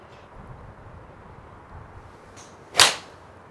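After a few seconds of quiet outdoor ambience, a single sharp, loud crack rings out as a TaylorMade M4 iron strikes a golf ball, then quickly fades.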